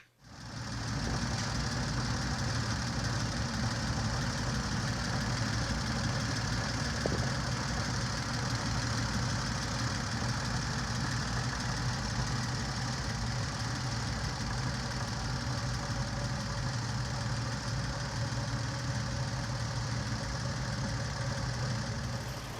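Engine of a 1926 Oakland car running steadily at idle after fluid-leak repairs, a continuous close mechanical hum with a faint rhythmic knock and no talking.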